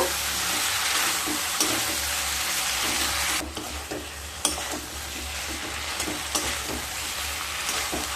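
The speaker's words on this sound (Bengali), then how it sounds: "দিয়ে আবারও খুব ভালোভাবে লো টু মিডিয়াম স্টিমে কষিয়ে নেব।" Spice paste for a drumstick curry fries over low to medium heat, giving a loud, steady sizzle with occasional scrapes and taps of a stirring spoon and a brief dip in the hiss partway through, no talking.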